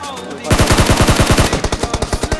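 Rapid automatic gunfire bursts from a mobile shooter game, loud and close, with a dense stream of shots and a brief pause before another quick run.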